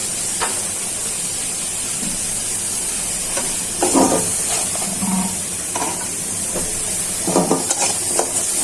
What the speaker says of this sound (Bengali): এখন পেঁয়াজটা দিয়ে দিচ্ছি, পানিটা যাতে ভালো করে টেনে যায়।